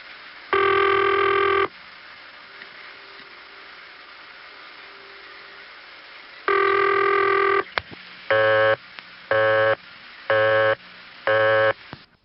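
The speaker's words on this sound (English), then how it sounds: "Now that last ring in busy is where the busy signal tape ended." North American telephone ringback and busy tones from the 1970s: two long ringback bursts separated by silence, followed by a rapid run of short, evenly spaced busy-signal beeps, slightly lo-fi and band-limited.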